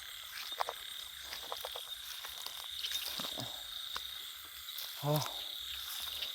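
Frogs croak at night in a scattered chorus against a steady insect drone, some calls in quick runs, mostly distant and soft with one louder nearby call.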